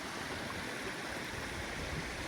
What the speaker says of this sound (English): A little creek.